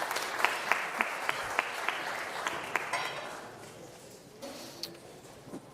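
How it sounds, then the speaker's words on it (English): Applause from an audience at an international summit on the future of energy security, a dense patter of clapping for the first few seconds that thins and fades toward the end, with a few isolated claps lingering. "A round of applause maybe as they take their seats."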